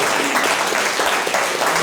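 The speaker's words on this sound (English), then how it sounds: "how about a round of applause for the unsung heroes of our election system" Audience applause at a public talk on voting law changes, dense, loud clapping from a crowd that carries on steadily with no talk over it.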